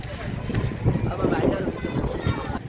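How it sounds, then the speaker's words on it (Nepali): Strong wind gusting across a busy open-air rural market selling shoes and sandals, a steady rushing roar that swells in bursts, with people talking nearby underneath. "यति ठुलो हावाहुरी आउला जस्तो लाग्यो।"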